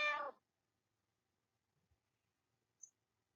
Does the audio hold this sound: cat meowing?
yes